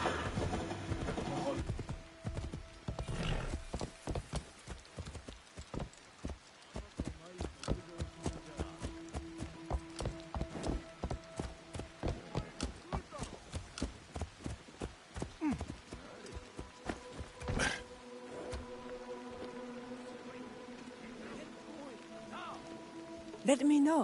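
Horse hooves clip-clop steadily on the ground in Assassin's Creed Shadows, a rapid even rhythm of sharp hits that slows and stops, with someone talking over parts and game music tones beneath.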